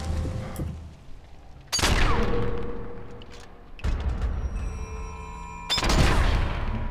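Sniper rifle fire in Sniper Elite 4: three loud, booming shots spaced about two seconds apart, each with a long, rolling echo that decays slowly, and no voices over them.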